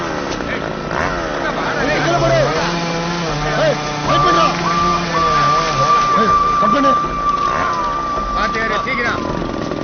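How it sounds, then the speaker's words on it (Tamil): A small petrol motor whines and revs steadily at close range, its note rising and falling in pitch over a crowd of shouting voices at a busy outdoor spot. "ஏய் மோட்டர் ஸ்டார்ட் பண்றா"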